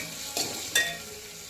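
Onion frying in a pan for dal khichdi: a soft continuous sizzle with two quick stirring scrapes close by.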